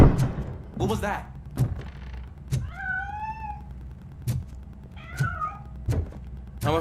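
A cat meows twice in Robocop Rogue City, clear tonal mews rising and falling between regular heavy thumping footsteps, fairly close and distinct.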